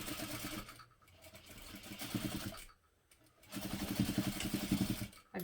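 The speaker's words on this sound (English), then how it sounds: "Now we're going to top stitch or sew through this using a 1/2 inch seam allowance." Sewing machine top stitching a tote bag seam, quiet bursts of rapid mechanical stitching with two brief pauses between runs.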